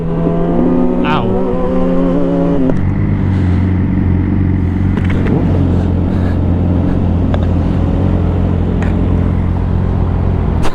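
Liter-class sport motorcycles, a BMW S1000RR, Kawasaki ZX-10R, Suzuki GSX-R1000 and Honda CBR1000, ride fast in a group, their engines roaring loud and continuous with rising revs and shifting pitch; some voices may also be present.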